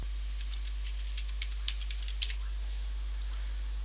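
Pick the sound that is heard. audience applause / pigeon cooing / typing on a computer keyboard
typing on a computer keyboard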